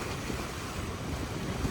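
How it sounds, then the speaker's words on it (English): Ocean waves wash around a sailing boat at sea between Moorea and Huahine, a continuous rushing surge of water mixed with wind noise, steady and fairly loud with no talking. "Some of these waves are still pretty big."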